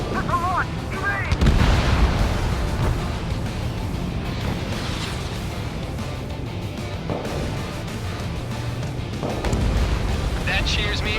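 Missile launches and explosions in the Ace Combat 7 jet combat video game make a continuous roar of booms and blasts, with radio voices talking over the action throughout.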